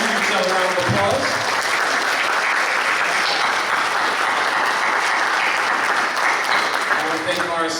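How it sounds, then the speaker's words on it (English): Audience at a New York Comic Con panel breaking into loud, sustained clapping that fills the room, a dense continuous roar of hands with a few voices mixed in. "Give yourself a round of applause."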